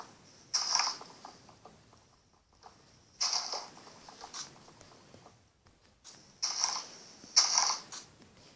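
Wood blocks are broken in Minecraft with three bursts of quick, repeated tapping and cracking, each lasting a couple of seconds and separated by short quiet gaps.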